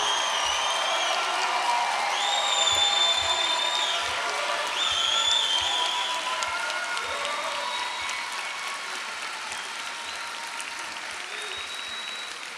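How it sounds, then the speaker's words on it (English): A standing graduation audience at a 2022 high school ceremony gives the graduates a big, sustained ovation, dense clapping mixed with scattered cheers and whistles that gradually eases off over twelve seconds. "give these graduates a major round of applause"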